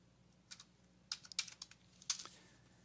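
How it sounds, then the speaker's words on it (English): Someone types on a computer keyboard, a few soft, sparse key clicks in small clusters, quiet and close against a faint background hum with no speech. "So I can type in an expression between these two variables."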